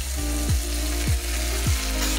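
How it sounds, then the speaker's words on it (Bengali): Ginger-garlic paste fries loudly in a pan with already-fried tomato and onion for a Bengali egg and potato curry, a close, dense sizzle with stirring scrapes recurring about every half second. "এবার আমি এর মধ্যে আদা রসুনের বাটাটা দিয়ে দেবো।"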